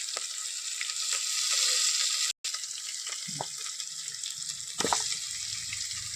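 Country chicken pieces drop into a pan of frying onion, garlic and ginger paste for a spicy curry, giving a continuous bright sizzle with a few wet stirring and splashing bursts and no talk.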